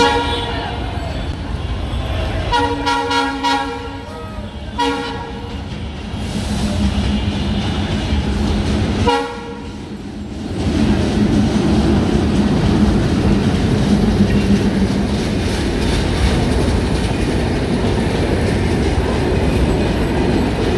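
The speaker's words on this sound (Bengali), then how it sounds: "এখন একটা ট্রেন আসতেছে" A train rolls up and passes a busy rail gate near a Dhaka fish market, its horn sounding in repeated blasts before the heavy rumble and clatter of wheels carry on loud and close.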